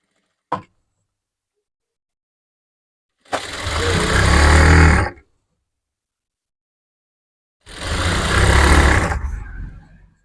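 Two loud bursts of a sewing machine stitching a garment top along a marked line with matching thread, each running about two seconds after a short click, with silence between them.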